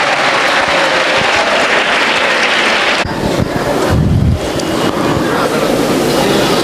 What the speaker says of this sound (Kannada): ಜೋರಾದ ಚಪ್ಪಾಳೆ ಮುಖಾಂತರ ಅವರಿಗೆ ನಾವು ಧನ್ಯವಾದಗಳನ್ನ ಅರ್ಪಿಸೋಣ